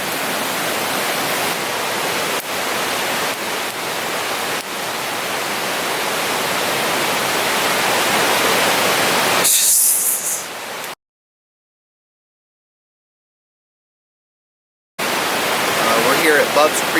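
Bubs Creek rushing along near Junction Meadows on the Bubs Creek Trail, a steady broadband roar of close water that cuts out into silence partway through, then resumes loud.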